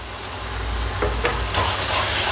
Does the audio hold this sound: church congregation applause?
no